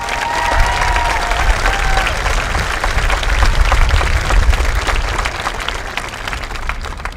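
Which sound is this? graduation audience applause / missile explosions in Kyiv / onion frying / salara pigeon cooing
graduation audience applause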